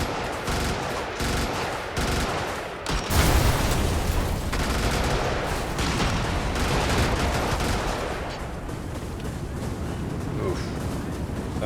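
Rapid gunfire from the top-down mech game Brigador, dense continuous bursts and booming impacts layered with in-game explosions, loud and sustained throughout with a heavy blast near the start.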